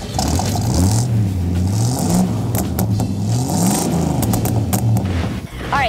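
A car's engine at a small-town Kansas car show revs up and down repeatedly, loud and close, its pitch rising and falling in waves, ending with a brief whine.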